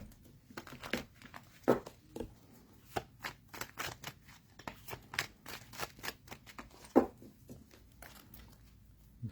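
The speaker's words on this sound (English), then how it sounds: "I'm just going to intuitively shuffle until I feel like I should stop." A deck of tarot cards is shuffled by hand, giving soft irregular riffles and snaps of card stock, close and quiet in an otherwise still room.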